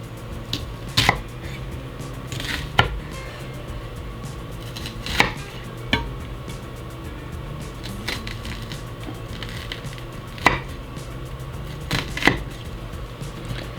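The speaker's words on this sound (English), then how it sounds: "So I'm making cuts in the onion like so, and then just cutting down." A knife cuts down through a peeled onion on a board, giving scattered, separate chopping knocks with pauses between them over a faint steady background hum; no talking.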